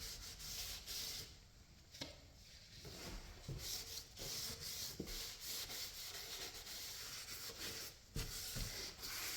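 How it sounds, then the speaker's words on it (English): A rag rubs wax into a thirsty wooden window frame, giving soft repeated swishing strokes with occasional light knocks, close and quiet. "I wax the rest of the window"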